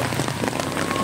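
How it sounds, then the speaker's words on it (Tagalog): Steady rain falls during a camping trip at an eco park in Infanta, Quezon, giving a dense, even patter of drops for about a second with no voices. "Ulan. Yung biyahe namin."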